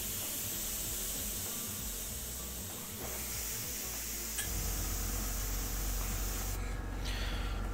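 An airbrush loaded with thinned paint sprays a model X-Wing in a steady, close hiss that runs throughout, growing slightly louder and rougher in the last few seconds.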